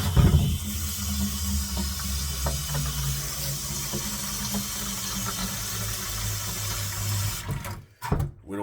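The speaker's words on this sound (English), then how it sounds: "put just a little bit of water in the bucket." Water pours into a bucket for popcorn ceiling repair mix, a steady rushing stream running for several seconds before it stops abruptly.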